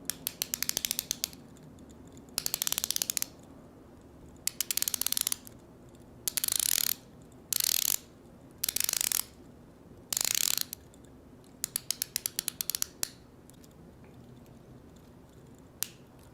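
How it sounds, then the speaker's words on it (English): Bezel of a Longines Hydro Conquest dive watch being turned, giving bursts of crisp, close ratcheting clicks in short repeated runs separated by pauses. "here's some bezel action for you"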